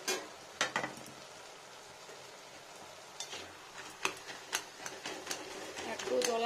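A Bengali vegetarian poppy seed vegetable dish boils and sizzles in a pan over fairly high heat, a soft steady bubbling with occasional sharp ticks and spatters, close and quiet.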